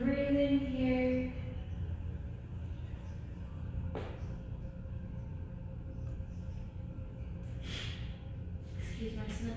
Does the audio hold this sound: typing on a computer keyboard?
no